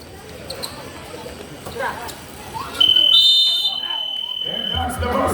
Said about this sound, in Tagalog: And that's the buzzer end.